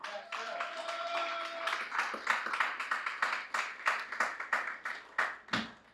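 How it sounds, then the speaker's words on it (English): Applause at a UNC pre-budget consultation in Chaguanas West, a modest group clapping in a loose rhythm of distinct claps rising and falling in bursts, with some background voices early on. "And the UNC deserves a round of applause."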